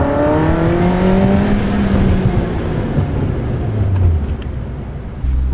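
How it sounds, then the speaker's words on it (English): Loud sustained engine roar with rising and falling revs, played over driving in an NB Miata that has race brakes fitted; gliding pitch sweeps suggest the dubbed V12 sound, with no talking. "Play V12 sounds over this editor."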